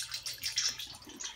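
Water pours out of a home fish tank through a tube, a close, continuous splashing gush with bubbly surges over about a second and a half.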